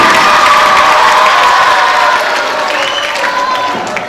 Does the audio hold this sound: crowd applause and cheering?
yes